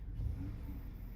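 A V6 Pentastar engine in a 2014 Chrysler 300 revs while parked, giving a steady, close, low rumbling hum with no talk over it.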